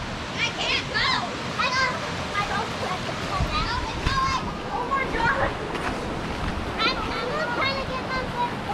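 A waterfall roars steadily while boats race toward it, a continuous rushing wash of water beneath excited shouting voices throughout.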